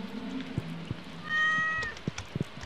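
A pet cat in the farming game Stardew Valley gives one clear, drawn-out meow amid soft game clicks and footsteps.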